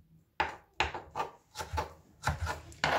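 A knife dices fruit on a chopping board, about seven sharp, close, irregular chops with quiet pauses between strikes.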